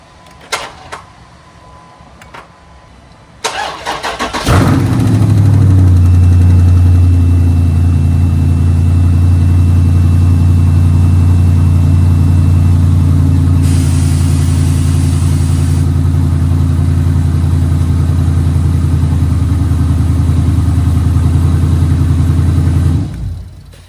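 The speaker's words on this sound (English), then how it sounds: "It took 3 tries to start the car, but it worked." A car is jump-started with an Autoone JS02 jump starter: a few faint clicks, then the engine catches with a sudden loud roar and settles into a steady, close idle for nearly twenty seconds, with no talking.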